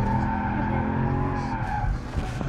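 A car drifts on a track at a performance driving academy, its tires skidding with a sustained squeal over steady engine roar, close and loud throughout.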